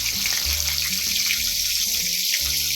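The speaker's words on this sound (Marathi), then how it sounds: "दोन्ही बाजूने अगदी व्यवस्थित आपल्याला क्रिस्पी असे बोंबील तळून घ्यायचे आहे" Bombil fish coated in rice flour and semolina shallow-frying until crisp, giving a loud, continuous, close sizzle with no breaks, over a low tonal background.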